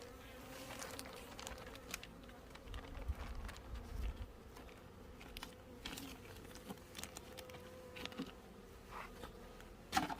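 Honeybees droning in an opened hive during a winter inspection, a steady low buzz of many bees with occasional sharper rises and small knocks, faint and continuous with no speech.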